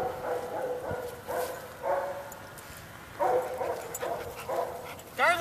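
Dogs at dragline training give several short barks and yips in separate bursts at moderate distance, with a high whimpering yelp at the end.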